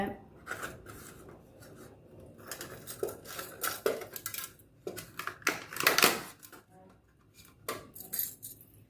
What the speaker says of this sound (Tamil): இந்த மாதிரி சேஃப்டி பின்னுங்க எடுத்துக்கோங்க